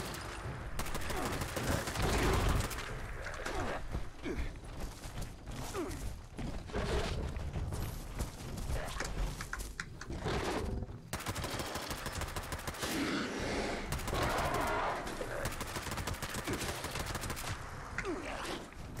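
Gunfire in the video game Fallout 76, with dense rapid bursts of automatic shots that go on almost the whole time, loud and close, with brief gaps between volleys.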